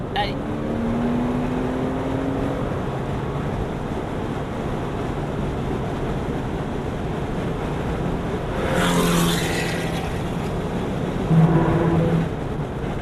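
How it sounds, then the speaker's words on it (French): A Porsche runs on a racetrack, its engine a steady broad roar mixed with wind buffeting throughout, with brief surges of louder engine tone near the end. "On garde son filet de gaz, Bruno."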